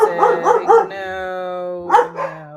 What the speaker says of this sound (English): don't start all the barking